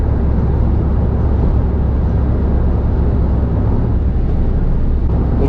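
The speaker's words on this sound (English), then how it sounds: "Let me know what you're thinking with the wind noise and everything" Steady broadband wind roar and road noise fill the cabin of a kei car cruising at 65 mph on the motorway. It is unbroken and fairly loud throughout, with no talking.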